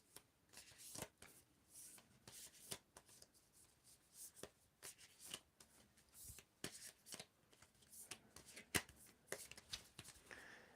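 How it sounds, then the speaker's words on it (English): A deck of tarot cards is shuffled by hand in soft, irregular bursts of slapping and riffling that repeat across the stretch, quiet and close. "you get to help me to shuffle these cards one more time"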